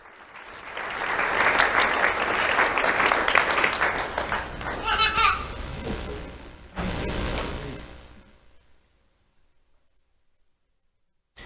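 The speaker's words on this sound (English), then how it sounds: "Let's have a round of applause for Jeremy Portillo." A crowd claps for a fifth-grade award recipient at a sheriff's office Do The Right Thing awards ceremony. The applause swells quickly, stays loud for several seconds with some children's voices, then fades off into near silence.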